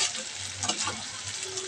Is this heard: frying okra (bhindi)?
yes